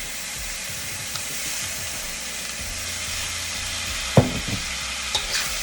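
Chicken fried rice sizzles steadily in a hot pan, close up, with a couple of sharp scrapes and clatters near the end as it gets stirred, no voices.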